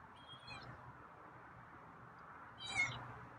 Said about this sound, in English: Wow, that's a different meow.